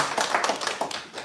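A church congregation applauds during a worship service, a short burst of dense, steady clapping from many hands that stays fairly even for just over a second.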